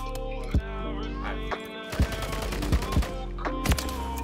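Sniper gunfire in Modern Warfare 3 rings out as several sharp, loud shots spaced irregularly over a few seconds, set against steady game music and effects.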